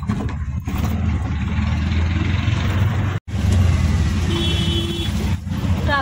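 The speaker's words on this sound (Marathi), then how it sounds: "ट्रॅफिक लागले ना" Road traffic on the way to Shilphata near Dombivli, a continuous close engine drone of cars and heavier vehicles with a brief break midway and a few tonal whines near the end.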